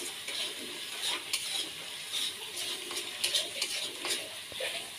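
Potatoes and spices frying in an oil pan while being stirred, giving a steady soft sizzle with scraping and clinking stir noises throughout, close and moderately quiet.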